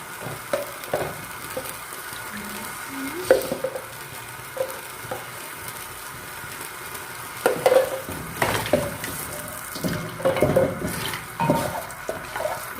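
Masala frying in 3 to 4 spoons of oil once its water has dried off, for a payee recipe: a steady hiss and sizzle with irregular scraping stirs of a spoon against the pot, close up and without talk.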